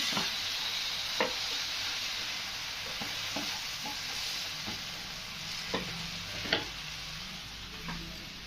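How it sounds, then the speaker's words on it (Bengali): Spice masala and tomato puree sizzle in a pan for mutton kosha, a steady soft frying hiss broken by scattered clicks and scrapes of a spoon stirring, close by with no voices. "এরপরে এই মশলাটা দিয়ে দেবো, নাড়িয়ে নিই।"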